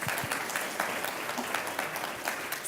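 Sustained audience applause at a North Carolina food access panel, dense clapping from a crowd, steady and fairly loud across the whole moment with no talking.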